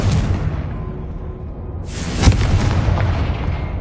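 A Confringo blasting spell bursts in Hogwarts Legacy with a deep rumbling boom, then a second sharp blast and a rushing whoosh that trails off, loud and close with no talk.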